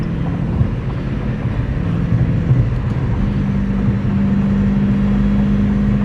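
A Dodge Challenger SRT 392 Scat Pack cruises on the highway, its engine droning loudly and steadily inside the cabin with a faint rising whine layered over the road rumble.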